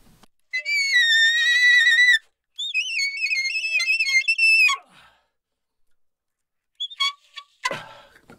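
Soprano saxophone played without a resonator, sounding piercing, whistle-like notes in the extreme altissimo sixth octave up to a top D, two sustained wavering phrases followed by a few brief breathy squeaks.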